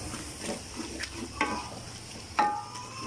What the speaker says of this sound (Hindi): ये सारे मसाले मैं इसमें ऐड कर दूँगी और इसको अच्छी तरह फ्राई कर दूँगी